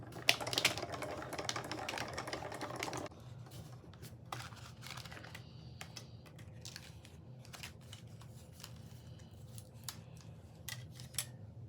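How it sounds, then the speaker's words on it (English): A Diamond Press Marquise die-cutting machine runs with a few seconds of dense rolling noise, then settles into sparse, faint clicks and ticks over a low hum. The sound is quiet and close, with no voices. "we're just gonna run this through the Diamond Press Marquise machine"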